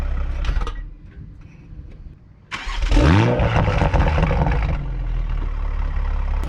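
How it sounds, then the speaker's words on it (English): A Toyota MK5 Supra with a catless downpipe, in sport mode, fires up from warm: a quiet stretch, then a sharp crank and a loud rising rev that settles into a rough, aggressive idle. "take a listen to a warm start with sport mode on"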